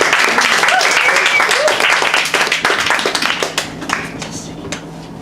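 An audience at a live spoken-word and performance show gives loud, close applause that gradually thins into scattered claps, with a few voices calling out over it.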